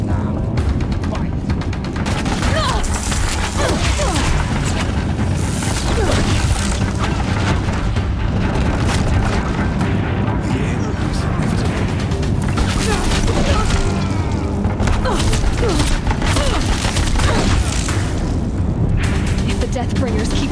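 Deathbringer machines in Horizon Zero Dawn fire on a bridge, a dense, continuous barrage of heavy booms and rumbling blasts with battle noise throughout, and a voice speaking over parts of it.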